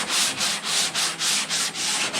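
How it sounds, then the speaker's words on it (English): Body filler on car bodywork is block-sanded in repeated back-and-forth strokes, a close, rhythmic abrasive rasp of about eight even passes with brief pauses between them and no voices. "sand back to that line"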